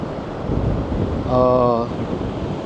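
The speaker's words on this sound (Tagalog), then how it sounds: "Sobrang lakas ng hangin. Kahit yung camera namin nangangatog." Strong wind roars and buffets the microphone in a steady rumble, shaking the camera, at a surfing beach in Israel, with a brief voice-like tone in the middle.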